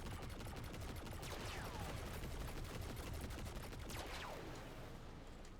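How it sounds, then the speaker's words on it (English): Rapid machine gun fire in the Destiny 2 shooter game, a dense continuous rattle of shots with whooshing effects throughout, steady and fairly quiet. "I'm just going to use my machine gun."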